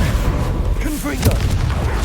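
A Confringo fire spell explodes in Hogwarts Legacy, a single loud boom with a brief burst, set among other spell and combat effects.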